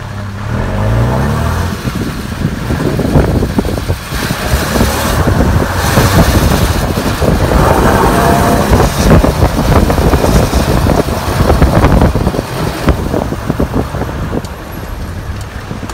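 A car drives along a road through Makhinjauri in Batumi, Georgia, its engine and road noise a steady, loud rumble with wind buffeting throughout and no talk.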